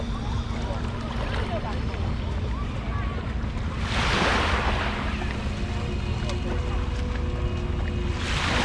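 Sea waves wash steadily along the shore at Kunsan beach under constant wind, with children splashing and calling out faintly as they play in the water.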